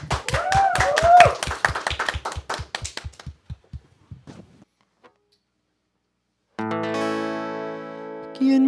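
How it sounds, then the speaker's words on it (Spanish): A small audience gives rhythmic, steady clapping to welcome a singer, loud at first and then thinning out and stopping, followed by silence and then a sustained keyboard chord. "Lo recibimos con un fuerte aplauso."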